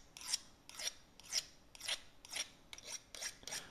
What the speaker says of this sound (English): knife sharpener.